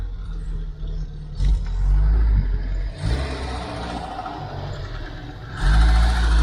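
A Ford Cortina Mk5 1.6 GL engine revs up close, its low rumble swelling in two or three surges over a steady idle, the car running slightly smoky and rough after an ignition tune-up.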